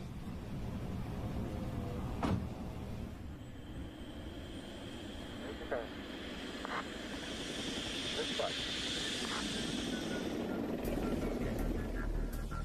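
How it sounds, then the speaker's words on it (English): An A160 unmanned helicopter carrying an antenna drones steadily overhead, its engine and rotor noise rising and settling while a narrator speaks over it. "Shadowed by a chase helicopter, the A160, carrying the Forester antenna, climbs to its programmed altitude"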